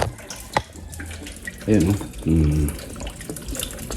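Stored water drains and splashes from a removed leaking PVC pipe at a water refilling station, with two loud gushing bursts. Someone speaks briefly nearby.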